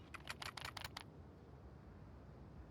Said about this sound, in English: A lot of typing going on.